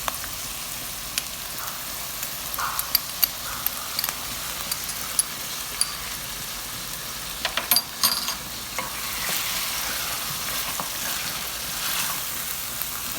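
Garlic, ginger and green chili paste frying in a karahi for mutton makhni karahi, a soft steady sizzle with scattered clinks and scraping stirs of a spoon against the pan throughout.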